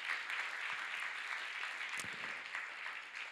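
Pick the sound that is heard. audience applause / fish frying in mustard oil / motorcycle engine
audience applause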